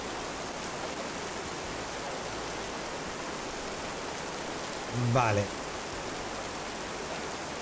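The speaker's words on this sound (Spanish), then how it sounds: "La lluvia no me deja escuchar nada" Steady, hissing rainfall in the video game This Land Is My Land that never lets up, with one brief spoken word partway through.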